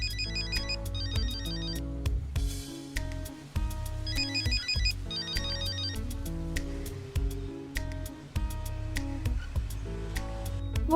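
A phone rings on and on with a repeating electronic ringtone, loud and steady for about eleven seconds, unanswered, with a musical backing beneath it and no one speaking.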